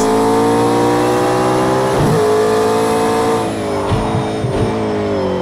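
A McLaren P1 engine in the racing video game Assetto Corsa drones loudly and steadily with rising harmonic tones, shifting pitch as it revs and changes gears, with no talking.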